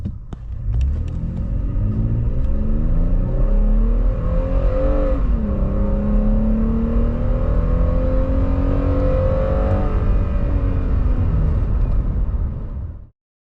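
A 2021 Toyota Tacoma TRD Off-Road 4x4 accelerates hard from 0 to 60, its engine rumbling loudly and climbing in pitch through several gear changes before the sound cuts off abruptly.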